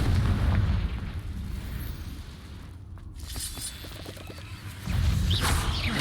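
Confringo blasting spell exploding in the video game Hogwarts Legacy, heavy booming bursts with rumbling low end at the start and again near the end, loud and close over continuous game ambience.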